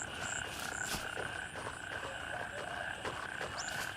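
Frogs croak in a dense, unbroken chorus in the Gray Zone Warfare video game, with steady droning calls and scattered higher chirps. It plays throughout at moderate volume, with no voices.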